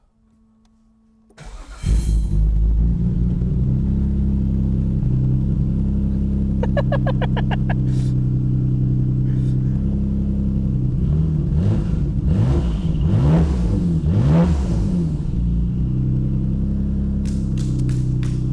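A Nissan Skyline R34 engine cranks and fires up, then settles into a steady loud rumble with a few revs rising and falling, heard up close.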